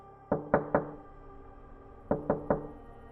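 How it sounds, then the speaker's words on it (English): Two sets of three soft, deliberate knocks sound close by inside a quiet bedroom at night, evenly spaced with a short pause between the groups. "The knocks were coming from inside the room."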